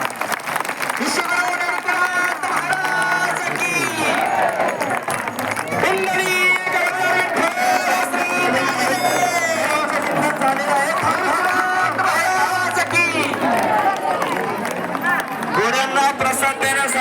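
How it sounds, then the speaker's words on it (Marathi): A crowd claps at the Sant Nivruttinath Maharaj palanquin ringan ceremony in Datli, Sinnar. Dense, continuous clapping is mixed with loud voices and crowd chatter throughout. "सर्वांनी टाळ्या वाजवा"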